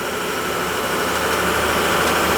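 A gas water heater's power venter fan runs with a steady, loud, close whooshing drone and a low hum underneath, unchanging and with no talk.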